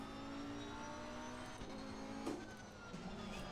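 A race car engine in Assetto Corsa Competizione drones steadily at a fairly low level, with a brief rise in revs midway as if through a gear change.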